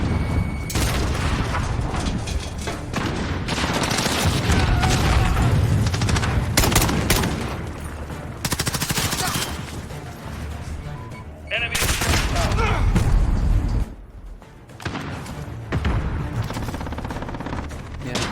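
SKS rifle fire in the Call of Duty Modern Warfare video game, with dense bursts of gunshots and booms in rapid succession and brief lulls, under a voice talking over the action.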